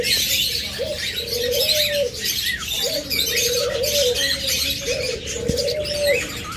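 Several caged pet birds, including ringneck parakeets, lovebirds, cockatiels, budgerigars and finches, call close by at a bird sale, with repeated rolling coos and a busy layer of high chirps and twitters throughout, no talking.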